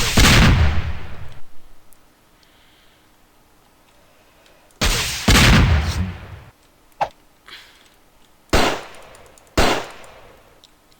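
Heavy .50 cal machine gun in the video game Raze 3 firing in loud bursts: a long opening burst, another after a pause, then several short sharp blasts spaced apart, with quiet gaps between.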